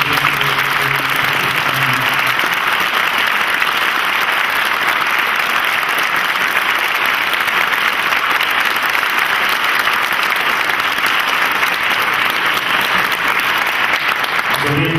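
An audience at a university meeting with five rector candidates claps for the candidates in sustained, loud, even applause that carries on throughout without a break.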